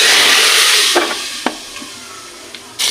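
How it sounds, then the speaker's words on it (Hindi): Spices crackle and sizzle in hot oil with a steady hiss, broken by a few sharp pops and spits before a louder burst of sizzling at the end, tempering for moong and masoor dal. "अब हम दाल को तड़का लगाने लगे हैं।"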